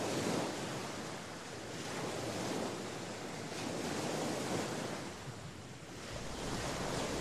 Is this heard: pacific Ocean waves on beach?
yes